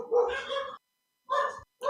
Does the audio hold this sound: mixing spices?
no